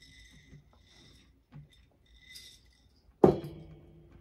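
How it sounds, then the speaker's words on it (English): Small beads drop into a freshie mold, first as a few faint light clicks and rustles, then as a sharp, close glassy clatter with a short rattle as they settle. "And then I just put it in to make sure I have the right amount of beads."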